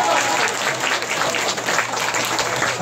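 An audience claps at a Korean melon festival's pumba performance, dense applause near and loud, rippling steadily for a few seconds.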